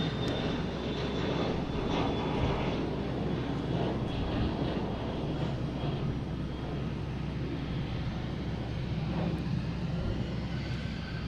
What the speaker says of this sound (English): Bombardier Global 6000.